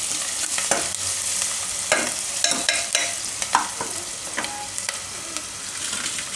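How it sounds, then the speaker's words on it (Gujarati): Onions stirred while frying in oil for a corn and potato dish, a constant close sizzle broken by repeated clicking spoon strokes against the pan. "તેલમાં થોડીક વાર ફેરવી લેવાનું."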